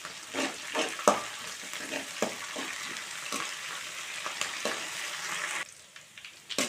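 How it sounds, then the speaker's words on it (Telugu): Onion with sprigs of curry leaves and a little coriander frying in a pan, a steady close sizzle broken by scraping stirs, then quieter toward the end with no talk. "దీంట్లోనే రెండు రెమ్మల కరివేపాకు కొంచెం కొత్తిమీర మొత్తం కొంచెం లైట్గా ఫ్రై అయ్యేలా ఫ్రై చేసుకుందాం"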